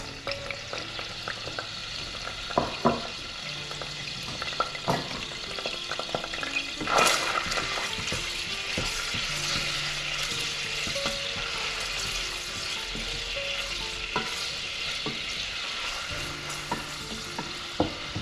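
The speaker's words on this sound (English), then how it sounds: "I'm going to put the pancetta in now." Pancetta sizzling and frying steadily in a pan for a risotto, a constant hiss with occasional stirring scrapes and clinks, close up and without talk.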